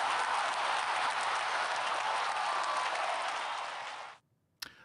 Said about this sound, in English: I didn't hear that applause.